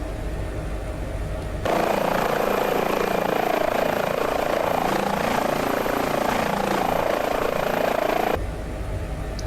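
Simulated H145 air ambulance helicopter flying in Microsoft Flight Simulator, a steady loud turbine whine and rotor hum that swells in over a quieter background, holds for several seconds, then cuts back down.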